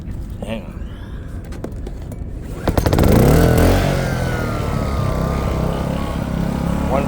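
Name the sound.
portable generator starting and running in a van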